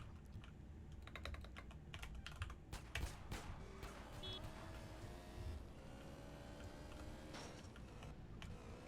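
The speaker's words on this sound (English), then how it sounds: "Just jamming the keyboard there." Computer keyboard keys are hammered rapidly during a GTA San Andreas speedrun, a dense, continuous clatter of clicks with occasional louder thumps and faint background game sound.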